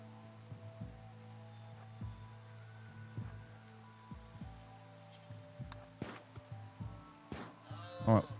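Steady rain patters in the Rimworld video game, a soft continuous hiss with scattered gunshot-like clicks and sheep bleats, and a little talk near the end.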